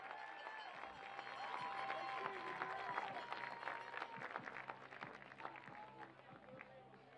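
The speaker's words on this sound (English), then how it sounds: "Let's give a round of applause for all these outstanding student-athletes, coaches, and staff." Crowd applause at the 2022 NCAA Division II women's lacrosse championship for East Stroudsburg players, coaches and staff, a steady wash of distant clapping and cheering with music and voices faintly underneath.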